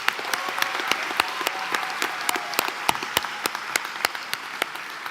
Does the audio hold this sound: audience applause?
yes